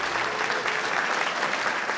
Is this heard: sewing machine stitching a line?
no